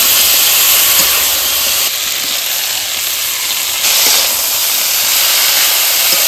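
A loud, sustained hiss of steam rises as a little water hits a hot pan with turmeric and salt while a cauliflower-stem curry cooks, the sizzle swelling and easing slightly across several seconds with no voices.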